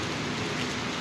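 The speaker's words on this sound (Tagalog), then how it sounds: "Buti na lang hindi masyadong magtuloy-tuloy yung ulan na ito." Steady, dense rain pouring down in Manila, a continuous hiss of drops hitting surfaces with no pauses or voices.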